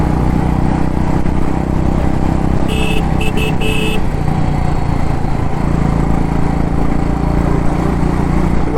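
An old Royal Enfield Bullet motorcycle rides along a seaside Kochi–Kanyakumari highway, its engine a steady, loud rumble with wind noise, and a short horn toots a few times partway through.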